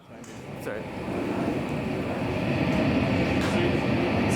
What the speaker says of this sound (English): just so we can hear the hiss a treble booster makes